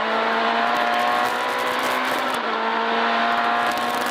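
A rally car engine screams at high revs on a special stage of the Rallye Luronne, a loud, dense roar that holds steady with a slight dip midway before climbing again.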